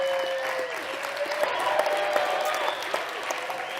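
Applause from the audience at a winter speaker series talk, a dense continuous wash of clapping with whoops and voices mixed in, steady and fairly close throughout.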